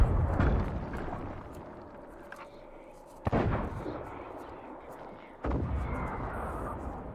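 Cannon fire in the video game Sea of Thieves, two heavy booming blasts a couple of seconds apart over a rumbling background, with game sounds and some talk nearby.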